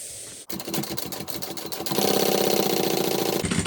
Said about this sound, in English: we're going to sew down each of these compartments